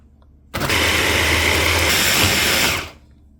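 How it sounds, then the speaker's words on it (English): An electric blender whirs loudly and steadily for about two and a half seconds, blending ingredients for a pumpkin sauce, starting abruptly and winding down at the end, with no talking. "Now I will be blending all the stuff that is in the mixer."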